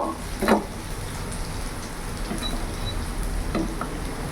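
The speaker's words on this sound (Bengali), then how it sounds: "দেখতে পাচ্ছ হালকা করে শ্যালো ফ্রাই করেছি।" Paneer shallow frying in a pan crackles and sizzles steadily up close, broken by a sharp clink near the start and another toward the end, likely a utensil touching the pan.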